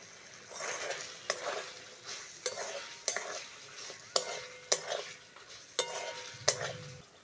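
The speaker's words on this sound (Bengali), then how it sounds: "আদা, জিরে, পোস্ত খুব সুন্দর করে ভেজে নিয়েছি" A paste of ginger, cumin and poppy seed fries in oil for a vegetable curry, with a soft sizzle beneath a series of sharp, evenly spaced spoon taps and scrapes against the pan, fairly quiet and close.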